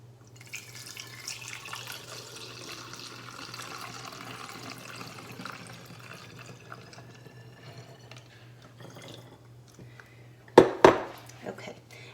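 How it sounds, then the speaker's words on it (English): Vodka trickles through a small funnel into a glass jar while making homemade vanilla extract, a soft steady pour under a low hum, ending in a couple of sharp clinks of glass. "I've got a small funnel here that's I'm going to pour it into"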